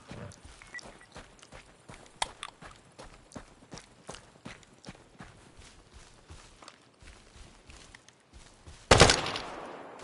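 Gunfire in the Deadside video game: a long run of sharp, evenly spaced shots snaps close by, ending in one much louder blast that decays slowly.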